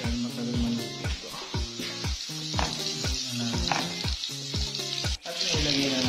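Pork sizzles in a hot pan, a bright, steady crackle heard close up, broken by rhythmic scraping strokes as the meat is stirred, with no voices.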